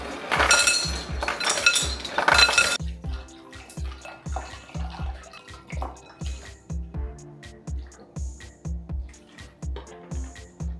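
Water pours and trickles into a container with ice cubes clinking against the sides for a face ice bath, a loud splashing rush at first, then softer drips and repeated clinks close by.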